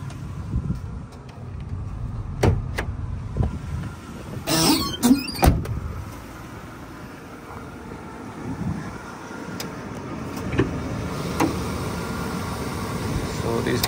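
A 1993 Chevrolet Astro Provan Tiger GT camper van idles with its air conditioner engaged and the hood open, giving a steady low engine hum broken by occasional clicks and thumps.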